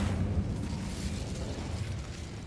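An Incendio fire spell goes off in a Harry Potter video game, a dense rumbling burst of flame that roars loudly at first and then settles into a continuous crackling rush.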